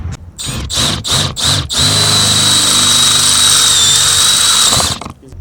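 Power drill boring a hole for a wing bracket on a Fox Body Mustang, starting with several short pulsed bursts, then one long loud continuous whine for about three seconds before stopping.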